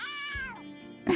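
A single drawn-out cat meow from the video game Randal's Monday, clear and close, sliding downward in pitch before a short rustling noise at the end.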